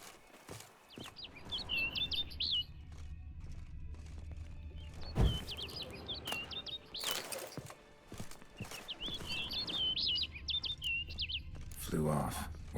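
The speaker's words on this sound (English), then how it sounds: "Looks like the bird's leading me somewhere." Small bird chirps come in quick scattered bursts in The Witcher 3: Wild Hunt, set against a low ambient rumble with occasional thuds and footsteps.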